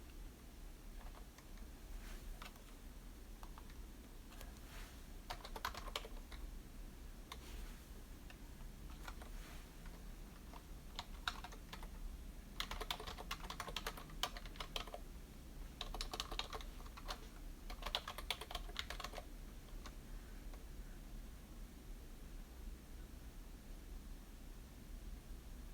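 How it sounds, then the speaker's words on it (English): Soft clicking of computer keyboard keys as an email address is typed, quiet irregular bursts of keystrokes with short pauses, set against a low background hiss. "I'm gonna type my email address"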